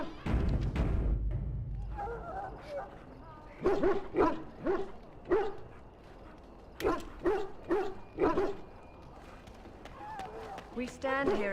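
Dogs barking and yipping in a kennel in the video game Dragon Age: Origins, repeated bursts of barks in clusters over a steady background, with a voice speaking in places.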